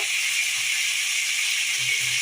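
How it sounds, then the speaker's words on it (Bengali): Cauliflower florets fry in hot oil with a dense, continuous sizzle and hiss, steady and close, plus a few faint low bubbling pops. "কপিগুলো আমি ফ্রাই করে নেব"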